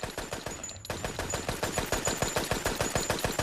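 A fixed machine gun in a trench-warfare no-man's-land setting fires a long, rapid, steady burst of evenly spaced shots after a brief silent gap, loud and close, with a faint high whine running through.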